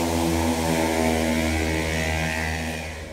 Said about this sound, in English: You got somebody booking it on the damn scooter. Sound like they engine blowing up.